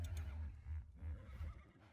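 A horse in ARK Survival Evolved neighs in a series of low, pulsing whinny bursts, fairly close and fairly quiet, with no talk over it.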